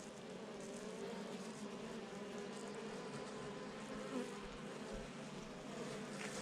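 A honeybee colony hums steadily at an open hive while it rebuilds after wax moth trouble, a dense, even buzz that holds for the whole stretch, with no talk over it.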